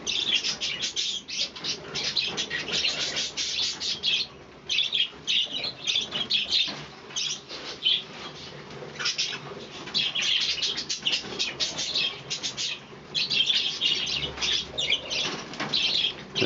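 Pet budgerigars chirp and chatter busily while wings flap in bursts, a dense, bright twittering that continues almost without pause, close and fairly loud, with no talk.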